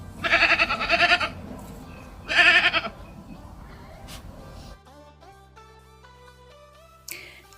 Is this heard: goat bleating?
yes